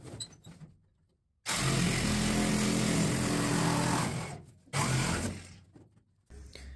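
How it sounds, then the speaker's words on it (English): A Sawzall reciprocating saw cuts through the cab pillar of a 1953 Chevy pickup truck being chopped, a loud harsh buzzing run of about three seconds, then a shorter second burst after a brief pause. "Probably just saw me take the Sawzall here."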